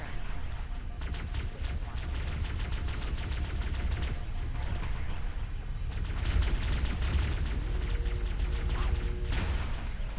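Rapid bursts of gunfire crackle in Halo: Combat Evolved, repeated sharp shots in clustered volleys that continue throughout, fairly close and loud over a constant low rumble.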